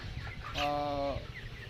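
Broiler chickens about 29 to 30 days old on a poultry farm: one clear clucking call rises mid-clip over a low, busy background of other birds and farm noise.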